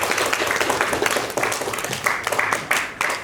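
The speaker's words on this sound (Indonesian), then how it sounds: "Tepuk tangan untuk tim E." An audience claps for a team at a school quiz competition, with a brief burst of applause made of fairly sparse, close individual claps that rise and fall in uneven waves.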